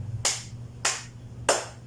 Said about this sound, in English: Let us give 3 claps to everybody.